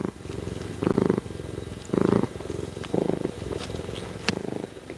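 A pet cat purrs close to the microphone, a continuous low rumbling purr that swells in a slow rhythm of about one breath per second, with no one talking.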